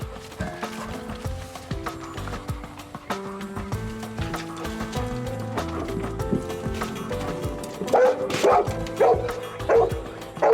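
A rescue dog searches for a hidden person during a search-and-rescue demonstration, with loud barking under a dense layer of music and other sound, and the barks growing sharper and more prominent toward the end.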